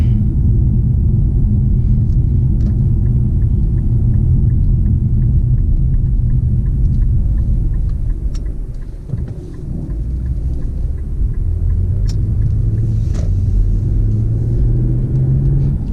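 A 400-horsepower 2018 Infiniti Q50 Red Sport in Sport Plus mode drives with a heavy, continuous low engine and road drone inside the cabin, briefly dipping before rising again in pitch.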